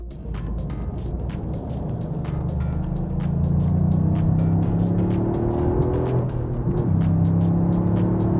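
Toyota GR Yaris engine running close by, a steady low drone whose pitch climbs gradually as it revs, continuous and fairly loud with no talking.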